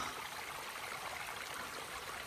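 Mountain stream tumbling down over rocks beside a hiking trail on Stratton Mountain, a steady soft rushing and trickling wash that stays even throughout, faint and with no voices.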